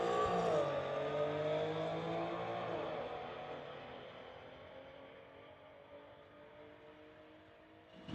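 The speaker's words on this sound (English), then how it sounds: "Tesla versus an Infinity coming up next" A Tesla and an Infiniti drag racing on a strip at a street legal night, a roaring engine note that fades steadily into the distance, heard from afar.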